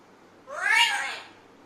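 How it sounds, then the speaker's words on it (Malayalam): One clear, fairly loud cat meow rises and fades over about a second in an otherwise quiet space. "ഇവിടെ ഉണ്ട് പൂച്ച"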